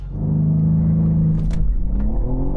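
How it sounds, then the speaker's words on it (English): A 550-horsepower BMW M3 CS launches hard from a standstill, its engine note climbing in a rising, harmonic-rich roar over a couple of seconds. "here's what happened when I launched a 550 horsepower BMW M3 CS from 0 to 60 miles an hour"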